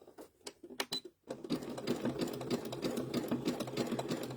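A sewing machine stitches a quilt block in rapid, steady bursts after a few brief starts, the motor's rhythmic chatter running close and continuous.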